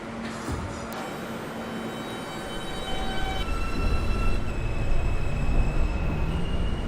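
R160 subway train on a Manhattan-bound J local run in OpenBVE, a steady rolling rumble with faint wheel tones and a high whine that grows slightly louder partway through.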